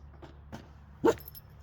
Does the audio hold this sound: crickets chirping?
no